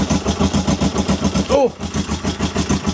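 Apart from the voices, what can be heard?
Kawasaki ER5 motorcycle engine starting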